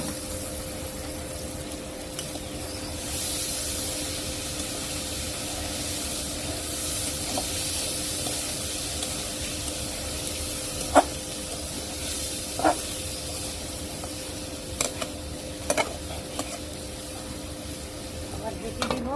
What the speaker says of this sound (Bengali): আর একটু হবে, ভাজা ভাজা করবো খালি।